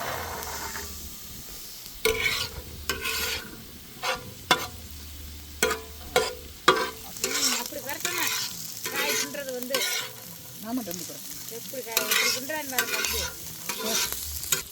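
Carrots, beans and peas sauté in a pan for an Italian frittata, with a steady sizzle under repeated sharp spoon scrapes and clinks as the vegetables are stirred, close and fairly loud, no voices.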